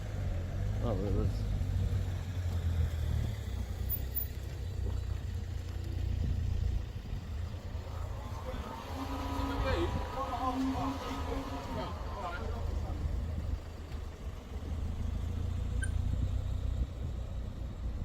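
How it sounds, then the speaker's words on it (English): A car left running unattended, its engine idling as a steady low rumble throughout, with people talking nearby over it. "did you see who's left that car there running?"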